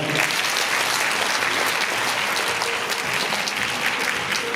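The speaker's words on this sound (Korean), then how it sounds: "큰 그 박수로 감사드립니다" A large audience applauds at a choir festival and competition ceremony, giving thanks after an official's speech; loud, dense, sustained clapping fills the room without pause.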